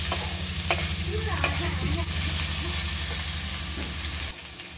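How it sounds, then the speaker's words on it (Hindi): Onions and potatoes frying in a pan give a close, steady sizzle with light stirring clinks and scrapes, dropping away abruptly near the end, with no voices. "ये प्याज और आलू अब भुन चुका है"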